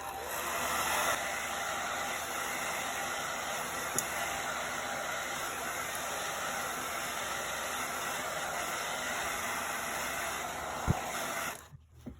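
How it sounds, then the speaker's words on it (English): A hair dryer runs steadily with a constant whooshing hiss for several seconds, then cuts off near the end. "we're gonna take the hairdryer and let this dry."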